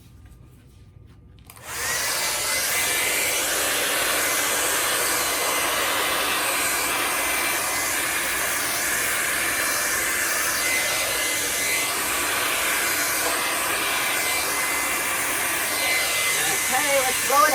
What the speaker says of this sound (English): My dryer.